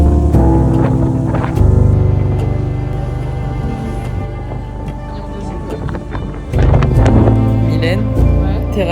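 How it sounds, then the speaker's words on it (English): Strong wind buffets the microphone aboard a ferry in Greece, a loud continuous roar with gusting surges and engine-like rumble underneath. "There's a lot of wind."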